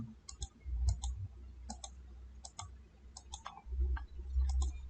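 Computer mouse clicks while working in Excel, arriving in crisp pairs and small clusters at an irregular pace over a low background rumble, close and distinct with no talking.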